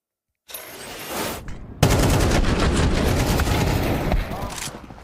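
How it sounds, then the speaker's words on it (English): Rapid gunfire from a Counter-Strike match replay, with a headshot in a G2 versus Vitality round: dense, loud bursts of shots that kick in abruptly and keep going for several seconds, mixed with game sound effects. "It is all about that Nico headshot."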